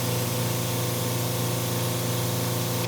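Pressure washer running steadily through a triple nozzle, a loud continuous hiss of spray over a constant motor and pump drone, with no voices.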